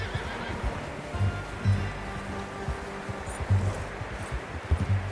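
A horse in Red Dead Redemption 2 snorts and whinnies in low, rough bursts, with shuffling hooves and faint rustling around it, all fairly close.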